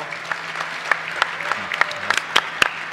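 Small audience at a business talk on applied AI applauding two presenters, scattered individual handclaps ringing out unevenly over a quiet room, with faint murmuring beneath.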